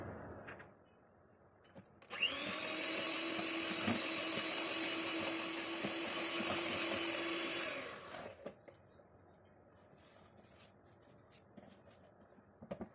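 Electric hand beater whirring steadily at close range for about six seconds as it creams butter with caster sugar, starting and stopping abruptly, with quiet handling noises before and after.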